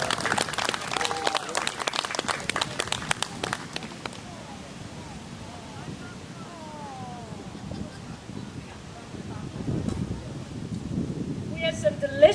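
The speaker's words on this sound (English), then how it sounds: "Let's give a big round of applause" A scattered burst of clapping from a small crowd at an outdoor brass band concert for about four seconds, then quieter murmuring and outdoor background, with a brief chirp near the end.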